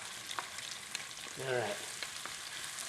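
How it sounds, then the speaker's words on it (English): Chopped onion sizzles on high heat in a pan of olive oil and butter, a quiet steady frying hiss with a brief swell as it hits the oil, and a voice speaks briefly. "And into this oil goes some onion."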